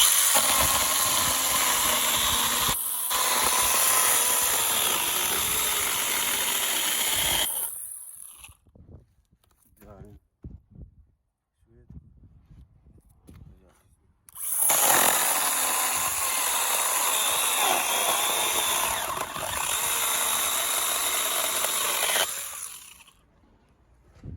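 STIHL GTA26 cordless mini chainsaw cutting through a wooden board, loud close motor whine and cutting noise in two long bursts separated by a quiet pause with faint handling sounds.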